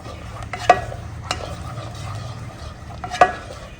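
A spoon stirring turmeric, chutney powder and ginger-chili paste in a pan, with soft scraping under a gentle sizzle and two sharp clicks of the spoon against the pan.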